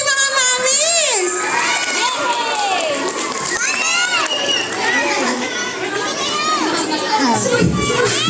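Children at a Valentine's party shouting and cheering loudly as a crowd, with excited high voices overlapping continuously and some clapping mixed in.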